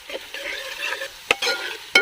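Onion, coconut and garlic fry in a pan for a rabbit curry while being stirred, a soft crackling sizzle broken by a few sharp scraping strokes of the spoon against the pan.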